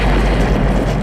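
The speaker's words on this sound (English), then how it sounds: "before the train blows up, and I can't unhear that Toby Fox explosion sound effect" A train blows up in a James Bond video game, a loud, dense roaring boom that fills the whole moment, close and overwhelming.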